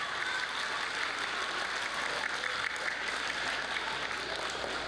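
An audience at a school wildlife-conservation assembly applauds to welcome speakers, a continuous even wash of many hands clapping at moderate loudness throughout.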